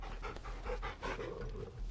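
Torgal, the wolf-dog companion in Final Fantasy XVI, pants in quick rhythmic breaths throughout, close and steady with no talking.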